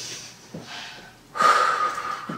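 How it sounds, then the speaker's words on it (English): A few deep breaths drawn while marching in place during a basic workout, soft at first, then a louder, longer breath about midway, fairly close and with no talking. "Taking a few deep, deep breaths"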